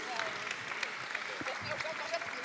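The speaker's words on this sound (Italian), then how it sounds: "quindi un applauso anche a Imbal" Audience applause for Imbal at the Premio Internazionale Profilo Donna ceremony runs as a continuous patter of many hands, moderately loud, with voices murmuring underneath.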